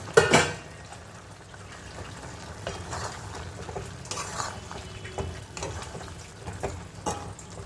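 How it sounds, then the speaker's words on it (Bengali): Fried mourola fish simmering in a vegetable curry, with a low bubbling sizzle under occasional stirring and pot clinks, close and moderately quiet. "তো এই যে মাছটা ফুটছে"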